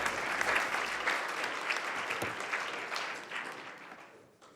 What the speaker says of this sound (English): Let's hear it for Mr. Austin Mickey